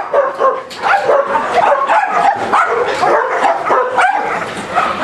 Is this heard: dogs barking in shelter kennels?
yes